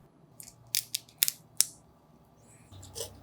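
Kitchen scissors snip the sharp tail spike off raw shrimp, a few quick crisp clicks close by in a quiet room, then faint handling noise.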